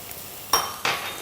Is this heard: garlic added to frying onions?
yes